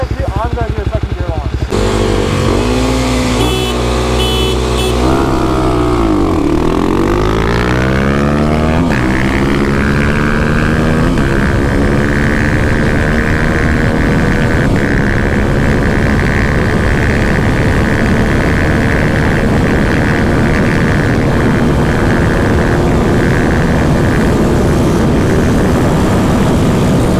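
Kawasaki KLX300 and KLX250 dirt bikes launch in second gear at a drag race, engines revving, then climbing loudly and close up into a sustained high-pitched roar, with voices heard at the start.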